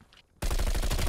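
Sudden, loud automatic gunfire in the video game Call of Duty Black Ops Cold War starts after a brief quiet moment, with rapid rhythmic shots hammering on steadily and close up.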